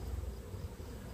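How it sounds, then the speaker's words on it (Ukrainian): Honey bees buzz around a hive at an apiary, a dense, low, steady hum sounding close and fairly faint, with no voices. "Хай тут залишається бджоли."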